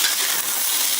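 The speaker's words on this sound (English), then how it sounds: "So we're going to put about maybe 6 ounces of beef there. Let it sear." Six ounces of beef sears in a hot wok with a steady, close hiss and crackle of frying fat, continuous and unbroken for a brief moment with no voices.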